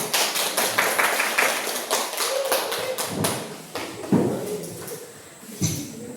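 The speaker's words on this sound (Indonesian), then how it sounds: "Tepuk tangan dulu dong." Audience clapping in a room at a teacher training session on guidance and counselling, a dense patter of claps over the first few seconds that thins into scattered taps, moderately loud and close.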